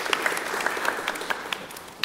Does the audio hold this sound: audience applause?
yes